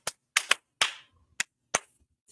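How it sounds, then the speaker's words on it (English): A few short, sharp claps in quick separate bursts, loud and close, with gaps between them rather than sustained applause. "Zero gave a round of applause."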